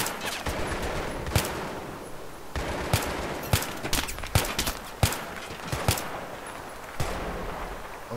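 Scattered gunshots in Battlefield 3's co-op mission Operation Exodus, with sharp single cracks fired at irregular intervals over a steady battlefield rumble, some shots close and loud, others fainter.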